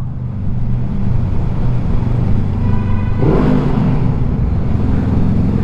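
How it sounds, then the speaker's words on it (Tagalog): A loud motorcycle exhaust pipe roars and revs, the drone swelling into a booming rev midway, echoing heavily inside Cabiang Tunnel in Lemery, Batangas. "pag nandito ka parang nagmumultiply yung tunog ng pipe mo"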